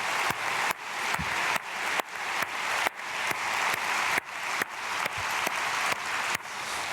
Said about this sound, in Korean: 우리 박수로 축복하고 격려하겠습니다